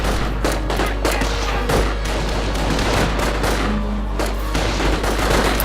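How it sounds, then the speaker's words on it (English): Rifle gunfire from riflemen in the Company of Heroes video game, a steady rattle of overlapping shots and bursts under constant battle noise, loud and dense throughout. "Riflemen shooting from out of cover"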